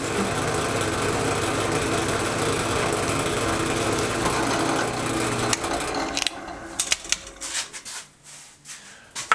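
Power saw cutting small wood pieces for a wooden thumb drive case, a steady loud buzzing drone for about six seconds that then breaks into short, uneven bursts and clicks.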